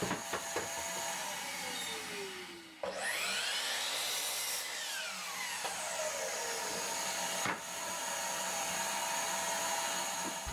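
Saw cutting 2x4 lumber into 40-inch bench top pieces, a continuous close, harsh rasping cut with a pitch that sweeps and shifts, pausing briefly and then resuming.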